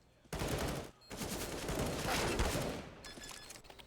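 Gunfire in Counter-Strike on the Mirage map during a professional match, a sharp burst of loud shots followed by a brief gap and more rapid fire, then quieter game sounds with a faint chime.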